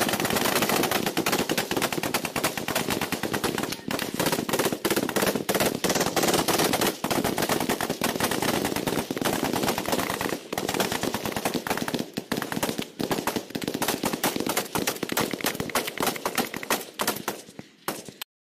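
Gunfire in Colombian combat, dense and relentless, with rapid bursts of automatic shots and scattered single cracks packed into a loud, continuous barrage that thins out only at the very end.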